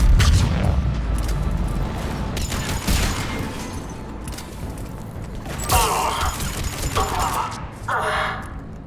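Heavy cannon fire and battle noise in the Mass Effect 3 Omega liberation mission, with dense rumbling blasts and mechanical clatter filling the scene throughout, punctuated by louder bursts near the end.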